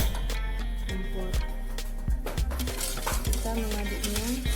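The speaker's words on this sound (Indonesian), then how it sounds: "Ini harus diaduk sampai dia mendidih" A spoon stirs agar-agar jelly mixture with sugar in a pot on a lit stove, scraping and clinking against the metal in a steady rhythm, loud and close.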